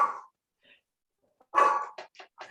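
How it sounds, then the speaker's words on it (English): A dog barks indoors during an online conference call, one short bark, a pause, then a louder bark followed by a few quick yips, fairly close but moderate in level. "I'm going to mute my dog."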